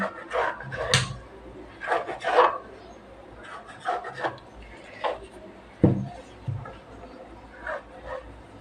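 A knife cuts rolled chapati dough into strips on a board, giving a series of soft, close scraping and rasping strokes in irregular bursts with a sharper knock or two between them.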